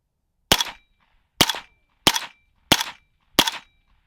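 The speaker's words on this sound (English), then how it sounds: "Just shooting right over my targets into the berm." Five sharp single shots from a PSA 300 Blackout Krink rifle firing Hornady 208 grain subsonic rounds into a berm, each a crisp close crack with a short decay, spaced roughly evenly over four seconds.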